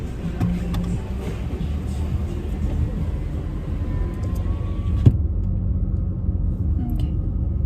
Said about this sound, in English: I'm gonna drive through this very dangerous parking lot